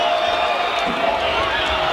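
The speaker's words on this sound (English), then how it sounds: "Listen to this crowd." Crowd at a 12U youth football championship game, Plantation vs Delray, roaring and cheering loudly and steadily after a late go-ahead touchdown, dense cheers and whoops filling the whole moment with announcer talk mixed in.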